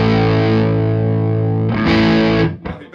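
Heavily distorted electric guitar played through a Hotone XTOMP amp simulation pedal: a loud, sustained chord rings for well over a second, then a fresh strummed chord, followed by a few choppy muted hits.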